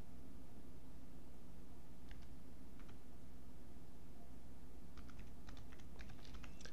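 Bursts of quick keystrokes on a computer keyboard while working in Windows 11, a couple of short clusters early and a denser run of clicking toward the end over faint room hiss.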